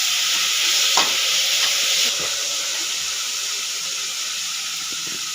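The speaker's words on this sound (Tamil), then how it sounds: "எண்ணெய் போட்டு இந்த வெங்காயத்தில் நல்லா ஃப்ரை பண்ணலாம்" Oil sizzling steadily as onions fry with vegetables such as potatoes and peas on an induction cooktop, a broad continuous hiss that is louder in the first two seconds, with a few stirring knocks and no talk.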